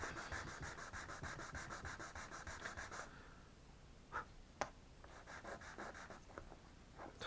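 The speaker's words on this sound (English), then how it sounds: "get a rough sanding stick and rub it over to smooth it off" A rough sanding stick rubs over a cut plastic part of a 1/48 Eduard MiG-21PF model kit, giving a close, steady scratchy rasp for about three seconds, followed by quieter handling and a couple of sharp little clicks.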